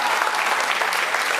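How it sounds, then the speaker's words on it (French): An audience applauds a performing artist at a live show, a steady, dense wash of clapping filling the whole moment without a break. "est-ce qu'on va applaudir pour lui?"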